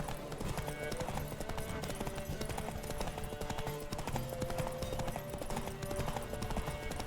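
Horse galloping during a race in The Witcher video game, rapid rhythmic hoof clip-clop running continuously under a game music and ambience bed, fairly faint overall.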